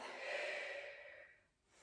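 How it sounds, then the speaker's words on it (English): A long, slow belly breath taken during a hip mobility exercise, close and soft, a steady airy rush that fades near the end. "I'm going to use my breathing. So, belly breath."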